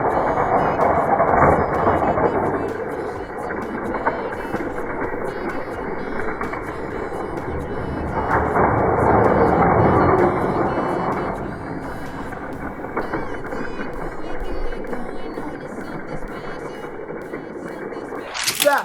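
Hot Wheels die-cast toy cars, a Ferrari among them, rumble and rattle continuously down a curved plastic racing track, with a loud steady roll throughout and a voice talking over it.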